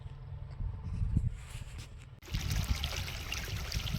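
Irrigation water flowing steadily into a wheat field bed, a continuous gurgling trickle that grows louder and brighter midway, with no talk.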